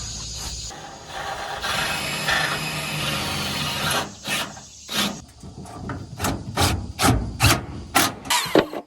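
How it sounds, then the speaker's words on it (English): Screws being drilled and driven into wooden 2x4s while building a homemade farm boom sprayer: a steady rasping whir for the first few seconds, then a run of short, sharp bursts close by, with no talking. "So going to get these drilled and put some screws in."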